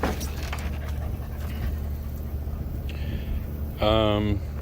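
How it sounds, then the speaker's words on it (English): Two pet dogs pant in a backyard, a steady breathy rhythm close by with a brief whimper near the end over low outdoor hum. "greeted by my two puppy dogs, Ivory and Jasmine."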